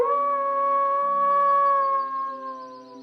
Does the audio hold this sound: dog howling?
yes